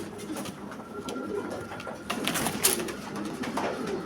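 Pigeons of a prized breeding line coo softly nearby, a few low, throaty calls repeating among light rustling and faint background noise.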